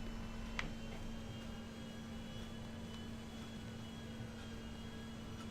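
A steady, low airliner engine hum with a constant tonal drone sits just above silence as a plane makes a slow turn on the ground in the video game Transport Tycoon, with one faint click near the start.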